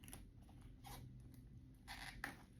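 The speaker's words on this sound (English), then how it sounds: "Got some scissors here. I'm gonna just cut it." A few quiet snips of scissors cutting through material, short crisp bursts over a soft room background.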